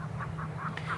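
Peking ducks kept for meat and eggs on a farm quack steadily nearby, several overlapping calls over a constant low background hum.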